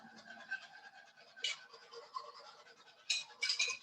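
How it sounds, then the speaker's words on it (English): A whisk beats a sauce mixture with Worcestershire sauce in a bowl, quick faint bristly scratching strokes that swell into a few louder bursts near the end. "And we are going to whisk."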